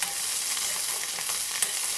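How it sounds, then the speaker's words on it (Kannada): Garlic frying in hot oil while being stirred, a continuous bright crackling sizzle with small pops, steady and close, with no voices. "ಬೆಳ್ಳುಳ್ಳಿಯ ಕಲ್ಲರ್ ಚೇಂಜ್ ಆಗುವ ತನಕ ನಾವು ಫ್ರೈ ಮಾಡಿಕೊಳ್ಬೇಕು"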